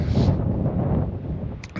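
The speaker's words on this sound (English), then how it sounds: "it's a bit windy up here" Strong wind buffets and roars across the microphone on a cliff top above a beach, a loud continuous gusting rush.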